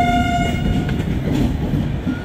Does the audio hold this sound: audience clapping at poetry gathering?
no